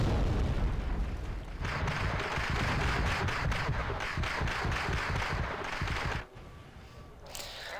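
Old artillery support guns firing in a Cold War tank-battle video game, a dense series of booming blasts and rumbling explosions running continuously for several seconds.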